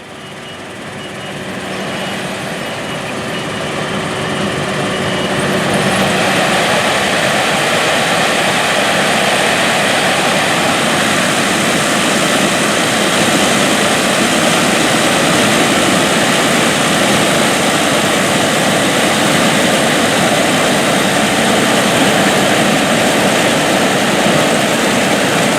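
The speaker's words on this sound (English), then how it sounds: "watch the Lexion combine try to pick up some of that corn that was blown down by the hurricane weather" A Lexion combine harvester works through hurricane-flattened corn in an August field, a loud steady engine and machinery roar that swells over the first few seconds and then holds constant, with no voices.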